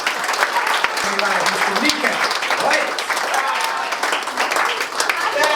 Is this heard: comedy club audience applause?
yes